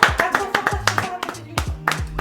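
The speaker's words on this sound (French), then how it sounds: "Moi, je vous applaudis, bravo." One person claps hands close to the microphone in a loose, uneven rhythm of sharp individual claps, with some voiced sound mixed in between.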